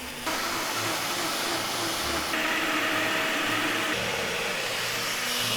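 A loud, steady motorized whir runs almost without pause, shifting pitch slightly partway through, like a blender grinding at high speed.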